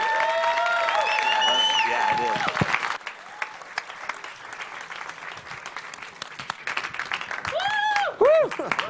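An audience claps and cheers for two presenters at a startup talk about Playground Inc., the applause loud and steady with whoops, while a few voices speak over it and a voice comes through a speaker system.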